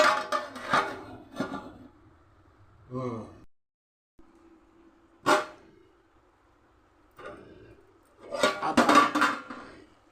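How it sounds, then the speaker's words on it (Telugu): A lid is set down on a pan of frying Krishna river fish on low heat, a short metallic clatter among scattered kitchen clinks and sizzling, with quiet talk in between. "సన్నసెగ లేవితే మూత పెట్టేస్తున్నాను చక్కగా వేగుతాయి"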